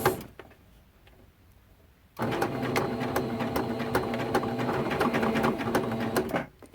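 A sewing machine stitches rows of a T-shirt quilt, starting after a brief pause and running in a fast, steady mechanical whir for several seconds before stopping, with back stitches included.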